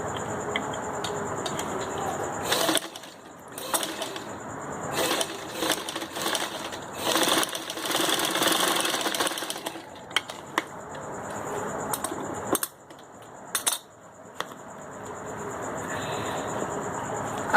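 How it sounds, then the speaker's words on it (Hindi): A sewing machine runs in bursts while stitching fabric for a turban, its steady mechanical whir starting and stopping in short and longer runs, close and fairly loud with no talking. "इस पर सिलाई लगानी है।"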